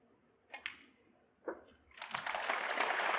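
A snooker crowd breaks into sustained applause after a couple of faint clicks, swelling to a steady, dense clapping that fills the hall.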